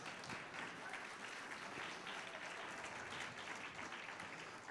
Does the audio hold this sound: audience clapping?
yes